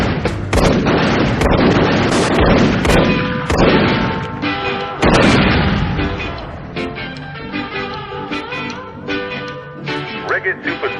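Close, loud bursts of gunfire crack repeatedly in irregular volleys with heavy echoing booms, dense at first and thinning toward the end, while shouted commands come through between shots.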